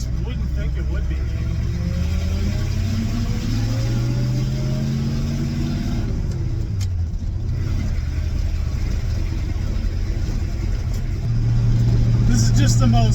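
A 1972 Ford F750 truck's engine drones on the road from inside the cab, its pitch rising and falling with gear changes, someone talking over it before the engine note climbs loudly at the end.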